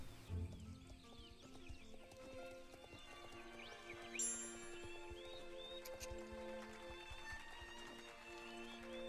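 Hooves clip-clop in an even rhythm with occasional whinnies as a horse is lunged in circles in the game Star Stable Online, set against steady tonal background music.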